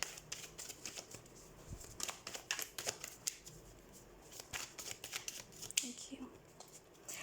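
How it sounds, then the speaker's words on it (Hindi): Tarot cards are shuffled by hand during a reading, making repeated quick riffling and flicking bursts, close and soft, while a person speaks over them. "तो सबसे पहले हम कार्ड शफल कर लेते हैं"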